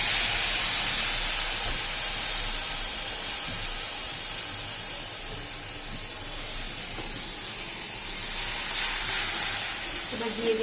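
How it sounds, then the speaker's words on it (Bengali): Steady hiss and sizzle of ground onion, ginger and garlic paste frying in a hot kadai, fairly faint and continuous, with a brief rise in spattering near the end. "এই যে পেঁয়াজ, আদা, রসুন এগুলো বেটেছি, এটা কড়াইয়ের মধ্যে দিয়ে দেবো।"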